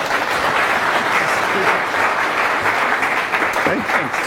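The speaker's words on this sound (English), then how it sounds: "Round of applause for the stooge." Sustained, loud applause from a workshop or classroom audience for a volunteer, a dense steady roar of many hands clapping with a voice emerging faintly near the end.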